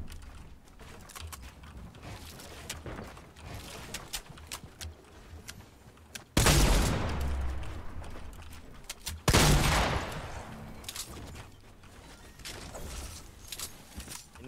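Shotgun and weapon fire in a Fortnite Season 5 duo match, with two loud broadband blasts standing out over a steady backdrop of softer game shots and battle noise.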